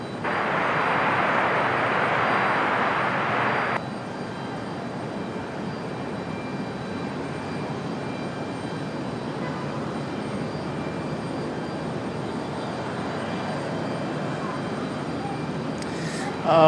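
An Endeavor regional airliner taking off from runway 23 right at Raleigh-Durham airport, a broad steady engine roar at moderate distance that sounds louder in the opening seconds and then holds as a sustained rumble; no one talks.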